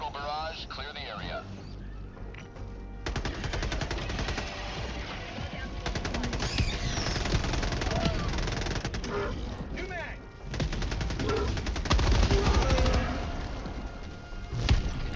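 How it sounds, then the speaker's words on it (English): Orbital barrage strike in a video game: a steady roar of rapid, overlapping explosive blasts and gunfire-like bursts, loud and sustained for most of the stretch, swelling again near the end. "Firing orbital barrage, clear the area."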